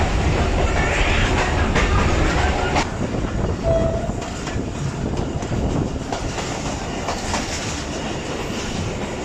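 The Lasani Express passenger train rolls into Guna Kalan railway station in Pakistan, a loud, continuous rumble of wheels and carriages with rhythmic clatter and a short high tone early on, steady and close throughout.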